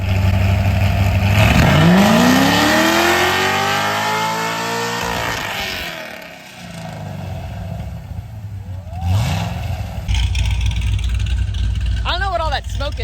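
A Corvette Z06 engine revs and accelerates loudly and close, its pitch sweeping upward through the gears before dropping off. Several shorter revs follow near the end, and people talk over the engine noise.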